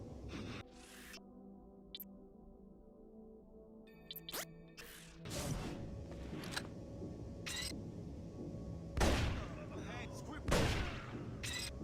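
Several loud, sharp gunshot blasts from an overpowered weapon in the video game Deus Ex, irregularly spaced over droning game ambience and electronic tones.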